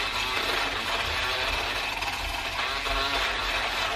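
A coffee mixture is whisked hard and fast, a loud, continuous rattling buzz that stays steady and close with no pauses or talk.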